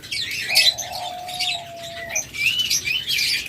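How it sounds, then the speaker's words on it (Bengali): A caged diamond dove gives a single drawn-out cooing call, with steady chirping from many small birds in a shop around it and no talking. "ডায়মন্ড ঘুঘু পাখি দেখুন"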